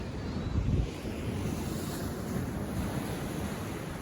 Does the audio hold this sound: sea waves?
yes